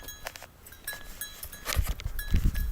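Goats at a farm feeder give scattered bleats and rustling, with a few thuds and scuffs growing louder toward the end.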